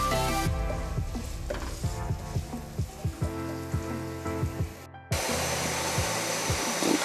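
Onions sizzling in hot oil with ginger and garlic for a keema and capsicum dish, a steady close hiss broken by soft stirring knocks, with a brief cut before the frying resumes louder.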